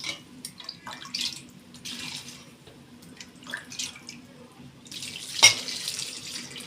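Broth is poured into a pot of chopped okra for a Sa'idi-style bamia, heard as intermittent splashing and trickling pours, fairly quiet, with a sharper splash near the end.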